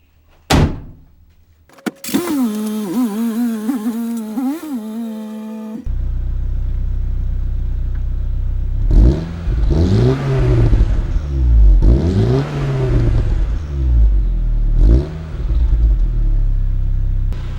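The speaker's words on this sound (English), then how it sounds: "I'll set up a quick exhaust clip when we are over at my house." A Saab 900 fitted with a 3-inch downpipe exhaust starts with a door thunk and a short whine, then a deep engine rumble rises and falls through several loud, close revs.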